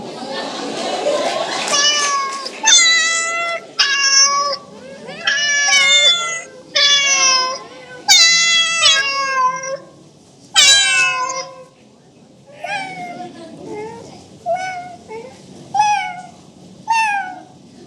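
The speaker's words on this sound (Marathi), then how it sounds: "आता या विजयनगरमधल्या 2 मांजरी काय म्हणतायत ते बघूया" Two cats meow in turn, a series of clear, close, loud mewing calls in an alternating back-and-forth rhythm, with faint background noise between the calls.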